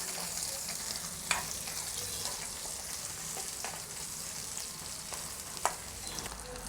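Garlic and onion sauté in hot oil for a sambal, giving a dense, steady sizzle up close with two sharp spoon clicks against the pan.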